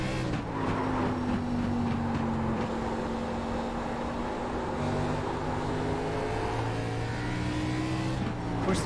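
A race car engine in the iRacing sim at South Boston during Arizona Pro Series time trials holds a steady, loud, unbroken drone, shifting pitch only slightly as the car is pushed hard, with no voices over it.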